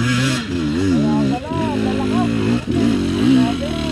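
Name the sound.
dirt bike motorcycles revving on a trail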